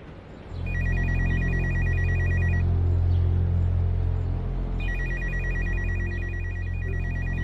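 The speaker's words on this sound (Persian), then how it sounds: "تلفن زنگ زده سوه، من رفته بردارم" A telephone rings in two bursts of rapid electronic trilling separated by a pause, over a steady low rumble like an engine or room hum.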